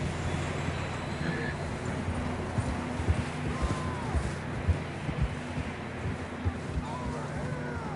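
Horse hooves clip-clop steadily while riding in Red Dead Redemption 2, a soft, even gait under wind and low rumbling ambience, with faint distant sounds.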